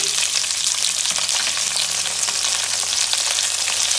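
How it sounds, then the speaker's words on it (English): Red onion, green chillies and curry mix fry in a pan with a steady, dense sizzle that stays loud and even throughout, with faint stirring scrapes underneath and no talking. "We are just going to fry this all."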